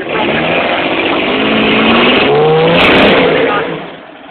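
Car engine revving steadily while driving during a drift or slide practice session, a loud continuous drone with rising and falling pitch, joined by an instructor's voice giving directions.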